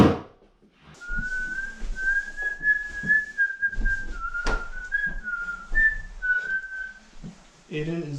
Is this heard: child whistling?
yes